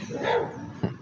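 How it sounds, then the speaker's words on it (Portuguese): An Akita dog gives a short, fairly close bark after a softer stretch of whining sound. "É um Akita."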